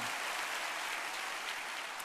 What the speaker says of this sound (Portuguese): Aplauda o nosso Deus se você quer nisso essa noite